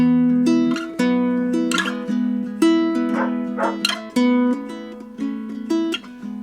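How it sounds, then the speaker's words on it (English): Dogs barking in short repeated bursts over a sustained plucked ukulele melody with runs up the neck, the barks sharp and fairly close. "minus the barking dogs"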